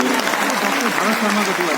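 Loud, dense applause from an audience at a business platform event, steady clapping filling the whole stretch with voices faintly mixed in beneath.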